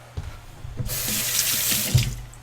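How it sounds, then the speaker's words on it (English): Tap water runs into a kitchen sink as something is rinsed out under the faucet, a steady close splashing rush that starts after a few soft knocks and continues to the end. "rinse it out"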